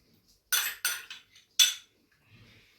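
Finely chopped small onions and cornichons for a tartare sauce go into a jar in a few sharp spoon clinks and scrapes, close and separated by quiet pauses.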